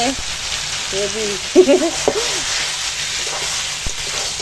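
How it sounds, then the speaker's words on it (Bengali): Goat meat frying in a pan over a wood fire, a steady close sizzle running throughout, with a few brief scrapes and taps partway through and a voice briefly audible at times. "তো কাঠের জালে এখন মাংস কষাচ্ছি"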